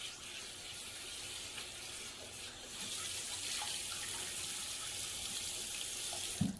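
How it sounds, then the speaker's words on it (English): A tap runs steadily into a sink as a face towel is rinsed under it, a continuous hiss of water that grows slightly louder partway through, with faint splashes and no talking. "I'm going to rinse my towel out."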